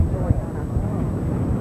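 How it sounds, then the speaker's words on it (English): A low, continuous rumbling roar from many motorcycles on the Rolling Thunder run in 1991 fills the background as someone talks over it. "Hear the roar of the thunder of the motorcycles as they run,"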